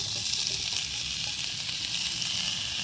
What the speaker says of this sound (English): now we're about to dump all the fries on